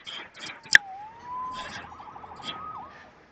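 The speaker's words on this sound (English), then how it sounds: "Saved by the siren." A police siren wails in Spider-Man Remastered, a single rising-and-falling tone sweeping fairly faintly behind brief voices and a sharp click.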